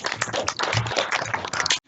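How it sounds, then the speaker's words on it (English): Video-call participants at a school CCA finale clap together for about two seconds, a dense and slightly compressed patter of many hands that cuts off abruptly. "We can all unmute and all clap for ourselves, please."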